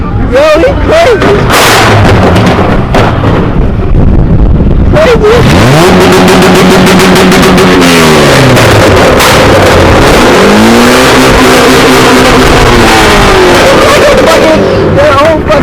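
Cars with loud exhausts rev hard one after another in an exhaust battle, deep roaring sweeps rising and falling, very close and loud, with crowd chatter around them.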